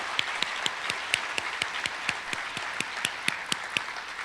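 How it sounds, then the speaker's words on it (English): Steady applause from an audience at a school's MLK oratory competition finals, many hands clapping together with sharp, regular claps standing out, loud and close, without any voices. "Let's give Gardere a great round of applause"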